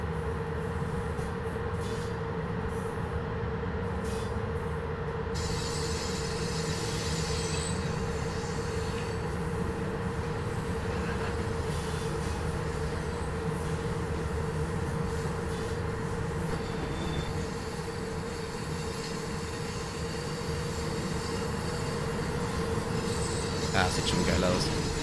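CFR Class 47 locomotive running in Train Simulator Classic, a steady loud rumble of engine and rolling wheels with a constant tonal hum, mild squealing and rail noise throughout, with a brief clatter near the end.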